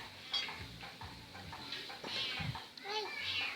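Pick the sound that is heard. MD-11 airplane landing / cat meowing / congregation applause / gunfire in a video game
cat meowing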